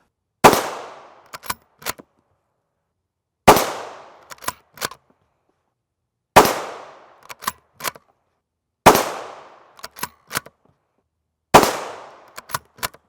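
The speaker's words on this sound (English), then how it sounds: "Here is some preliminary testing of the Hornady Frontier FR262 from Sam at SG Ammo." Five rifle shots from a 22-inch TC Compass with a 1-in-9 twist barrel, firing Hornady Frontier FR262 ammunition outdoors in cool weather. Each loud, sharp report is followed by a decaying echo and a few small clicks, spaced about three seconds apart.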